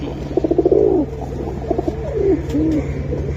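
Pigeons kept for sale in Bangladesh, Giribaz and Homer breeds among them, coo in rolling throaty bursts close at hand, one call after another, over a low constant hum with no voices.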